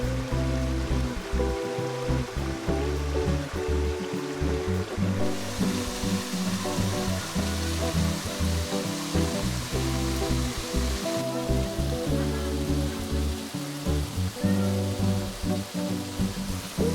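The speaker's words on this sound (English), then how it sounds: "it started to rain, and boy did it rain, it threw it down" Heavy rain pouring down in a Thai jungle, a dense, steady hiss and patter of water on foliage and surfaces, loud and continuous, with nobody speaking.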